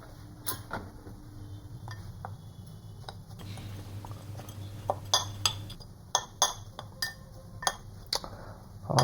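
A spoon stirring a scoop of whey protein in a glass, a run of sharp, close metallic clinks that grows into rapid rhythmic tapping against the glass over a quiet hum.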